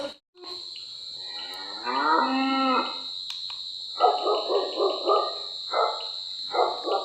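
A farm megaphone device used to scare animals off crops plays recorded mooing and barking through a tinny speaker over a constant electronic whine, in repeated close bursts.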